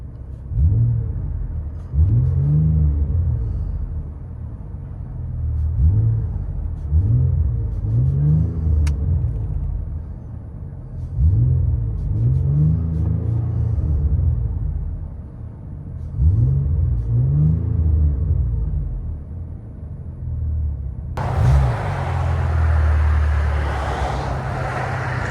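Cabin view of a 2018 Ford Explorer with a 3.5L EcoBoost V6 and Flowmaster Flow FX exhaust with X-pipe: a deep low rumble that swells in repeated revs, then a broader whooshing roar near the end.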